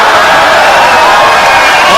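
Crowd roaring and cheering at a POLARIS grappling match, a dense, loud, continuous wall of voices.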